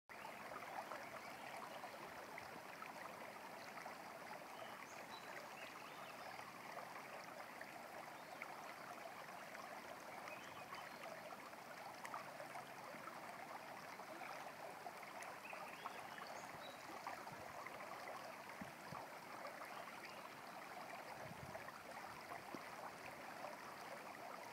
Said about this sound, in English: This is the Mary's River.